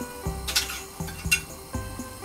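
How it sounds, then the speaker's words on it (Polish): Butter goes into a handleless frying pan with a few sharp metallic clinks and knocks of a utensil against the pan, spaced out over a couple of seconds, close by with no talking. "wrzucamy na, na patelnię odrobinę masła"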